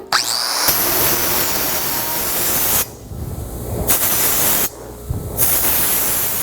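An angle grinder smooths a weld on a metal end table, a loud continuous hissing grind that stops briefly twice and starts again, with no one speaking.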